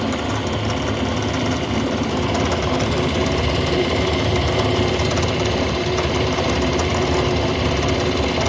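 A lapidary saw cuts through plaster of Paris, its motor and pulley drive running as a steady, loud, continuous mechanical hum with a low rumble throughout, no voices.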